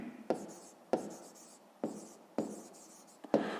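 Chalk on a classroom board during a fifth-grade maths lesson, with four or five sharp taps and short scratchy strokes in a steady rhythm. The sounds are close and carry no speech.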